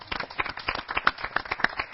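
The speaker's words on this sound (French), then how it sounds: "ça, je crois que ça mérite des applaudissements quand même" Applause from a small audience on a Cameroonian talk show after a remark about a vaccine creator; scattered, uneven hand claps at moderate loudness fill the short stretch, with no voices heard.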